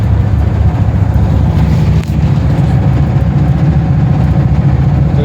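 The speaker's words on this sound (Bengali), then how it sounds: "আমাদের বোটটা এই মাত্র এখনই ছেড়ে দিল ওয়াশ টাওয়ার থেকে।" A boat engine drones loud and close as the boat pulls away from a watchtower landing on Tanguar Haor wetland, a steady low rumbling hum throughout.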